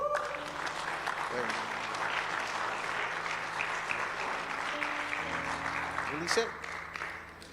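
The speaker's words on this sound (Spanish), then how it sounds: "Yo quiero que le des un fuerte aplauso al Señor." Church congregation clapping loudly for the Lord during a fasting and prayer service, a dense, steady burst of applause over soft sustained worship music, with a brief voice near the end.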